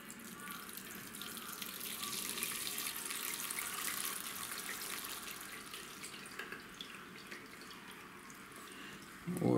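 Salted salmon caviar drains through a gauze-lined colander, giving a steady close trickle and patter of liquid with faint drips that runs evenly for several seconds before a brief louder clatter at the end.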